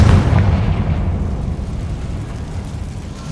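A Confringo fire-blast spell from a Harry Potter video game goes off as a loud, deep boom that rolls on as a rumbling blast, tailing off gradually with no talk over it.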